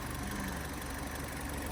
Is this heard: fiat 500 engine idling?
yes